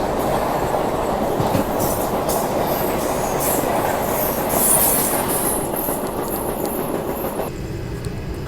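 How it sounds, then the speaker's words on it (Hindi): The Shreedham Express runs on the rails from Delhi toward Jabalpur, nearing Itarsi Junction, with a loud, steady rumble of wheels and carriages, rhythmic track clatter and a high metallic squeal throughout. "हमारी ट्रेन पहुंच रही है इटारसी जंक्शन रेलवे स्टेशन"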